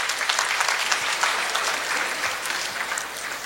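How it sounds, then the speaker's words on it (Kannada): An audience at the Hassan literature festival claps for the event organizers, a sustained, even burst of many hands throughout, moderately loud and slightly distant in a hall, with no voices on top. "ನಾವು ಮೊದಲನೇ ಚಪ್ಪಾಳೆ ತಟ್ಟಬೇಕು."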